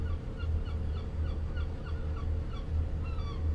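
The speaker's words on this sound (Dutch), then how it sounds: "Hoor je ook de meeuwen?" Seagulls call repeatedly in a ship simulator game at the Hoek van Holland harbour, their faint, evenly spaced cries drifting over a steady low engine drone and ambient rumble throughout.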